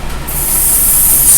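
Wet spray misted onto a wig from a spray bottle, a bright continuous hiss that starts sharply and holds steady for over a second, close and loud with no talk.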